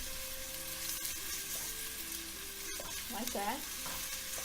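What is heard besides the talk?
sautéing onion in a pan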